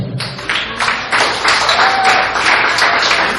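Congregation at a church service clapping for Jesus Christ, a dense, continuous wash of many hands filling the room, steady and fairly loud with faint voices mixed underneath.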